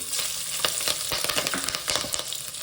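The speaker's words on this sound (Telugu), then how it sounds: "ఒక లవంగాలు ఒక నాలుగు ఒక ఐదు ఇలాచీలు పచ్చిమిర్చి వేసుకుందాం ఫ్రై అయ్యి" Cloves, cardamom pods and green chillies fry in hot oil for gonguura pulao, giving a steady close sizzle with scattered crackles and pops throughout, no voices.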